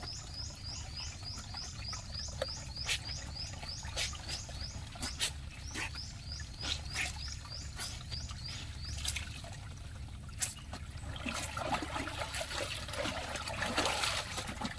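Water runs and trickles steadily at an outdoor spot used for doing laundry, with a continuous babble and scattered splashes, while birds chirp repeatedly nearby over the flow.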